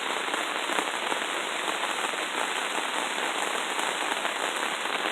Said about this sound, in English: Enjoying the rain.